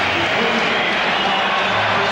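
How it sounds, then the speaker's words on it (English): A packed basketball arena crowd at the United Center rises in a standing ovation during Game 6 of the 1996 NBA Finals, Bulls versus SuperSonics, a steady loud roar of cheering and clapping filling the whole stretch with voices mixed in. "Standing ovation from this crowd at the United Center."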